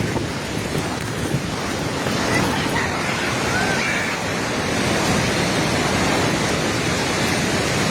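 A swollen river in flash flood in Nepal after a glacier collapse, with water risen high toward the Dhunge area, churning in a loud, continuous roar that stays close and unbroken throughout with no talking.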